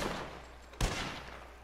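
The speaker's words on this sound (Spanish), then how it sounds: "Ah, les disparo a los compis." A single gunshot from a firearm in the video game Red Dead Redemption 2, a sharp loud crack at mid-clip with a brief tail over a steady low in-game ambience.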